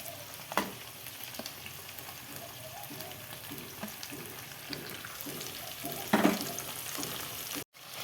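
Steady sizzling of garlic and tomato frying in a pan for pav bhaji, with occasional stirring scrapes and a louder burst of crackle near the end, close and without talk.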